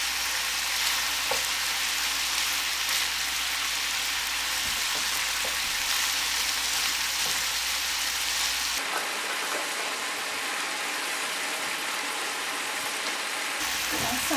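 One and a half pounds of ground beef browns in a pan with a loud, steady sizzle throughout, close up, and a low background hum drops out partway.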